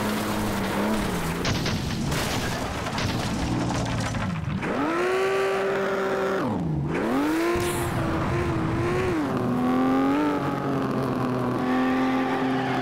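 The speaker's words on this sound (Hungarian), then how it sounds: "A hátam mögött lévő autó hangját hallom." Car engines race in the FlatOut video game, a loud revving engine whose pitch climbs and drops sharply through gear changes, with tire squeal and crashing thuds, continuous and close throughout.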